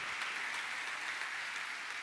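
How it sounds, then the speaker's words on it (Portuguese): Church congregation applauding, a soft continuous patter of many hands, faint and distant throughout. "Aplaude, você pode aplaudir a Deus."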